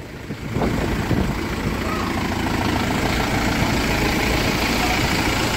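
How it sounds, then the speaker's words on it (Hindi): A Mahindra Yuvo Tech+ 575 DI dual-clutch tractor engine rumbles into a steady, close, loud diesel idle that holds evenly throughout. "वाह, महिंद्रा यूवो टैक प्लस 575 DI ड्यूअल क्लच"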